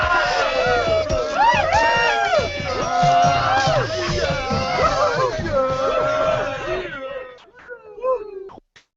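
A crowd cheers and calls out woos, loud and dense for several seconds, then thins to a couple of scattered late whoops and a lone clap as the noise drops away.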